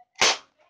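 A single sharp airsoft gun shot aimed at a Mountain Dew soda can, a loud close crack that decays quickly, followed by faint small rattles.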